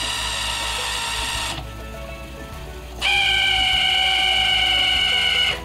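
A Coleco Adam Data Drive tape drive under repair squeals loudly while running, giving steady high-pitched whines that dip briefly in the middle and then return stronger and harsher for the rest of the stretch, with no talking.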